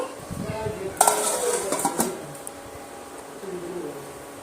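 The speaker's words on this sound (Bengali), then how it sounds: "নেড়ে চেড়ে নিয়ে আবারও ঢাকা দিয়ে এটা পাঁচ মিনিটের মতন হতে দেব" Metal utensil clinks and scrapes against a cooking pot as cucumber and potato curry is stirred, followed by a lid clattering on, a few sharp knocks near the middle amid low kitchen noise.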